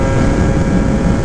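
A Gilera Runner 180 two-stroke scooter engine runs while riding at speed, giving a steady, loud, even drone mixed with rushing wind noise and no voices.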